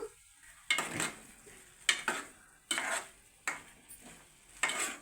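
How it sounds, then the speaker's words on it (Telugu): Chicken curry is stirred in a pot after ginger garlic paste goes in, a spoon scraping and clattering in five or six separate rhythmic strokes over a faint sizzle, close and with no talk. "నెక్స్ట్ అల్లం వెల్లుల్లి పేస్ట్ వేస్తున్నారు. దాన్ని వేసి మళ్ళీ కలుపుతున్నారు."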